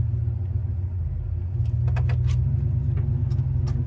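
Idling car engine rumbling low and steady while being parked in the shade, with a few light clicks and metallic jingles partway through, close by with no talking.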